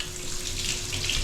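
Water runs steadily from a tap to wash freshly caught fish, a continuous broad splashing hiss that sits close and carries on with no pause or talk over it.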